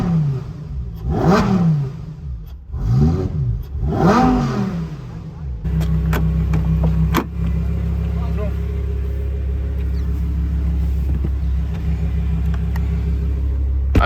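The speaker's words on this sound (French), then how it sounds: "Le bouton pour démarrer, je vous fais un start-up dans quelques secondes" A Lamborghini Huracan Performante Spyder engine rises and falls in three sharp, loud revs close by, then settles into a steady, deep idle rumble for the remaining seconds.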